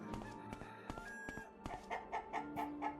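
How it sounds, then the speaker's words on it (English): Chickens cluck in the video game Skyrim: a busy run of short, rhythmic clucks and fowl calls, close and fairly loud, with a quicker repeating series near the end. "Some chickens. The chickens did all of this."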